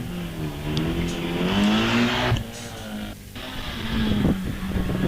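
A race car climbs the Wiscombe Park hillclimb, its engine revving hard through rising and falling gear changes with brief drops between shifts, loud and close as it passes.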